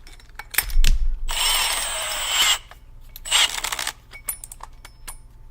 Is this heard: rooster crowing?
no